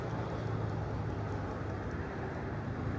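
Steady, continuous rumble of road traffic near Lake Acworth with a low hum, fairly loud and unbroken, with no voices.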